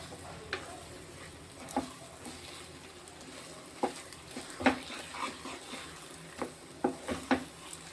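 Banana leaf halwa with ghee and cashews being stirred in a pan, heard as sparse, soft scrapes and light clicks of the spoon at an irregular pace over a quiet background.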